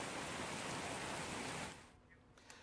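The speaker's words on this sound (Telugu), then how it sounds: "హైదరాబాద్ నగర వ్యాప్తంగా కూడా భారీ వర్షం కురుస్తుంది" Heavy rain falling across Hyderabad city makes a dense, even hiss for about a second and a half, then cuts off abruptly to a much quieter background.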